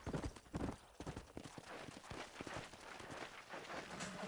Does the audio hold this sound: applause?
no